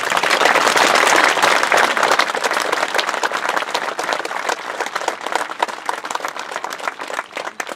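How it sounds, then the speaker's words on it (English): Outdoor crowd applause at a Memorial Day ceremony at the New Hampshire State Veterans Cemetery, sustained dense clapping that starts loud and gradually thins out over several seconds. "Please give those folks a round of applause."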